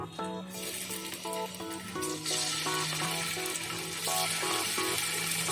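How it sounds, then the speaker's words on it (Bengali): Sea fish frying in hot oil in a village kitchen gives a steady, soft sizzling hiss that grows louder partway through, playing under tuneful background music. "এই গরম তেলে এবার মাছগুলো কিন্তু আমি হালকা ভেজে নেব"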